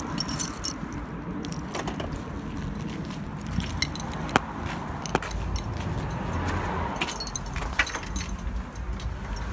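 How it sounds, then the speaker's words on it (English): Keys jangle and clink while someone locks a car outside a local UK garage auction, with light metallic rattles and small clicks scattered over a faint background. "Can you lock the car?"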